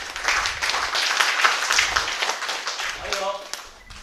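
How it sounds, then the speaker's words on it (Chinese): Steady applause from a crowd at a village gathering, a dense patter of clapping that holds throughout with a voice briefly rising over it near the end. "还有我的美丽的妈妈陈竹妹师母请掌声来"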